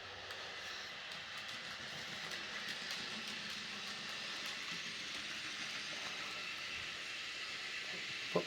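A model train runs round its track with a steady rolling rattle and faint clicking, even and close throughout, ending in a small knock.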